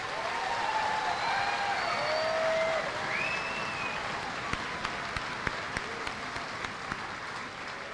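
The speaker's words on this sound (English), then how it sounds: "Let's give this group of outstanding soldiers another round of applause." Sustained applause from a large graduation audience for new soldiers completing basic combat training at Fort Jackson, a dense steady wash that thins to a few scattered, distinct claps toward the end.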